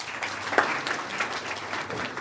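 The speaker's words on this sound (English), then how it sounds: "Just a round of applause if you can." Audience applause at an International Women's Day event: a steady wash of clapping from a crowd, moderately loud and continuous for a couple of seconds, with no talking over it.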